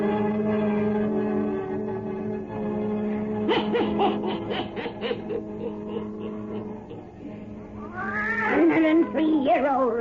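A black cat belonging to a witch meows in an old radio tale of witches, its rising cries standing out near the end above a steady musical drone and earlier bursts of sound.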